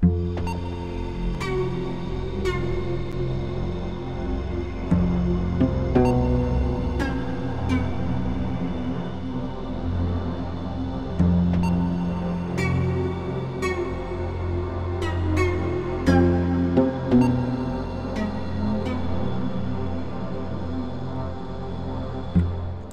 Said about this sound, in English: So I've got a low pad kind of sound.